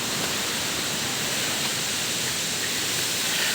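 Campuhan waterfall sends up a steady, dense roar of rushing water, close and unbroken, with no voices over it.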